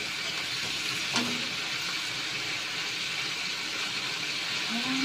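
Chili paste fried in hot oil for stir-fried squid with salted egg, a steady broadband sizzle held close and loud throughout, with a brief clink of a utensil against the pan.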